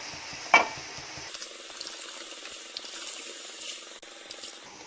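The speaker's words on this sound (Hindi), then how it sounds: "अब इसमें 3 कप पानी डालेंगे।" Three cups of water poured into soaked rice in a cooking pot while it is stirred, a brief splash followed by running, gurgling water and soft stirring noises at close range.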